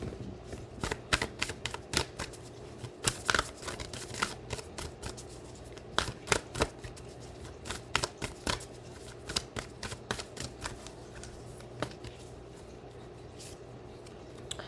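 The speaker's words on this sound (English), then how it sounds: "let's go ahead and pull some more cards" Tarot cards being shuffled and drawn, with soft rapid riffles and sharp card slaps and flicks coming in irregular bursts, close and quiet, with no voices.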